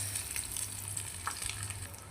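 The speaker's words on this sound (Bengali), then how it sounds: "মাছগুলোকে আমি সুন্দর করে ভেজে নেব" Small fish fry in hot oil in a wok for a miniature fish curry in an Indian village, giving a steady close sizzle with a light crackle and no voices.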